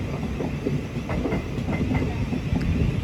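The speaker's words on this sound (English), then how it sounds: "As off goes the 1217 Tramlink service to Horsham from Peterborough." A Class 700 Thameslink train pulls out of East Croydon, wheels clicking over rail joints in an irregular clatter above a steady rolling rumble, close by and fairly loud.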